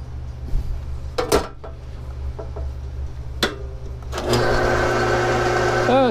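A lathe turns a plastic workpiece at about 1125 RPM while a cut is taken: a few scattered clicks and knocks at first, then a loud, steady whirring and whining machine drone with a ringing edge that holds to the end.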